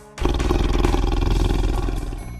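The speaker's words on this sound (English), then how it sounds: "A tiger makes a grrr sound." A deep, powerful tiger roar bursts in near the start and rolls on loudly for about two seconds, gravelly and close, fading slightly at the end.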